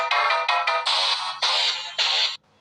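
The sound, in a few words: lead synth sound from a loop pack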